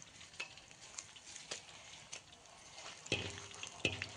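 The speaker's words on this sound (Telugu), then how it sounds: "ఇది మంచిగా కలర్ వచ్చిన తర్వాత వేరే తర్వాత ఎండుమిర్చి వేస్తున్నానండి." Dried red chillies frying in hot oil while making perugu vada, a soft, faint sizzle with scattered light crackles and a few sharper pops near the end.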